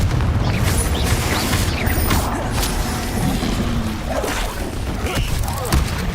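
Confringo blasting spell explosions in Hogwarts Legacy, booming bursts and crashes layered over dense, continuous battle noise, loud and busy throughout with no clear gaps.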